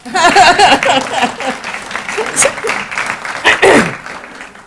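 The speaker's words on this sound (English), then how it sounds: "Yes, clap, please." Audience at a mayor's State of the City address clapping, loud and close at first, mixed with murmurs and a voice or two, then tapering off into lighter scattered claps.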